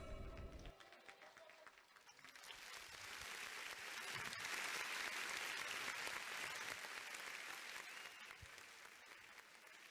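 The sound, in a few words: audience applause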